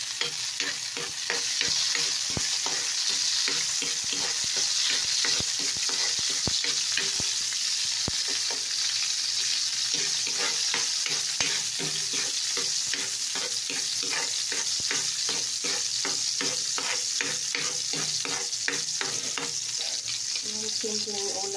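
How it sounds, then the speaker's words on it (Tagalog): Garlic sautéing in a little oil in a pan for a Filipino adobong talbos dish, with a steady loud sizzle and frequent stirring scrapes and clicks throughout, no talking. "Lagyan na natin ng kunting mantika. Ayan. Igisa na natin."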